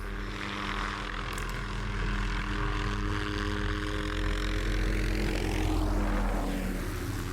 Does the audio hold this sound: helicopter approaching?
yes